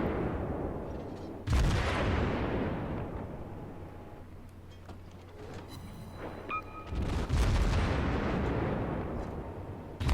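Naval guns of the Königsberg cruiser fire in World of Warships, with heavy booming salvos near the start and again around the seventh second, each followed by a rumbling tail, and a lighter mechanical clatter and faint tones in between.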